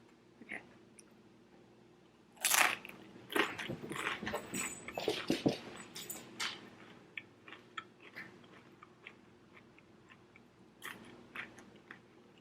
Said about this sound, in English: So it's now time for each chip to get a taste test.